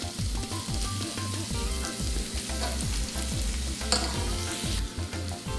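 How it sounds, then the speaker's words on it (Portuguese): Chopped onion browning in a pan gives a soft, steady sizzle close by, under a continuous low rhythmic hum and an occasional sharp clink, with no voices. "E vou deixar dar uma dourada aqui também na cebola"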